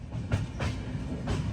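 Kumbh Mela special train wheels click over rail joints at speed, three sharp rhythmic clacks over a steady low rumble heard from inside the carriage.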